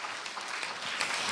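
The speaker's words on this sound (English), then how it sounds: "Let's give them a big round of applause to thank them" A crowd at the Tamil Heritage Month opening celebration in Toronto applauds the Tamil Heritage Month Council, a brief, dense burst of clapping from many hands that holds steady and fairly loud throughout.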